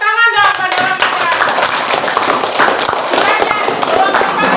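Hand clapping from a classroom group honoring parents, a dense steady patter of close claps with voices mixed in.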